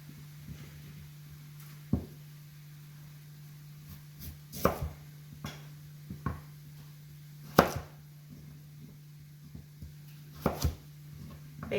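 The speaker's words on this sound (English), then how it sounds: "When you're cutting into slices, make sure you put your carrots down, face down, so that way they don't slide" A knife slices carrots on a cutting board in separate, uneven chops, a few seconds apart, over a steady low electrical hum in an indoor kitchen.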